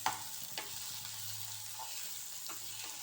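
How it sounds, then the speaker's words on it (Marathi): Onion and tomato sauté in oil for vegetable Hakka noodles, giving a soft, low sizzle with a few light spoon taps against the pan, quiet and without speech. "टोमॅटो पण छान परतून घ्यायचा आहे"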